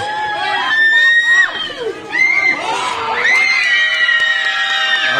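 A crowd at a basketball game shouting and cheering, loud, high-pitched excited yells and whoops in overlapping surges that dip briefly and swell again, close and dense.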